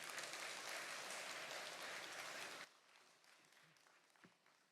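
Congregation applause welcoming a pastor to the pulpit at a church service, a warm wash of many hands clapping that stops abruptly after a few seconds, leaving quiet room sound with faint shuffles.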